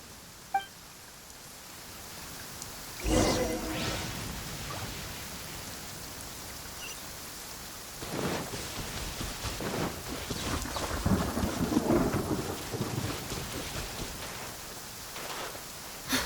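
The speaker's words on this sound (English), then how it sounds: "This weather is a hindrance. The thunder drowns out all other sounds" Steady rain pours down while thunder cracks loudly and then rolls and rumbles on in the distance, in the video game Genshin Impact.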